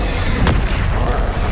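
A Confringo fire spell bursts in Hogwarts Legacy, one loud, close, boomy blast amid ongoing combat noise.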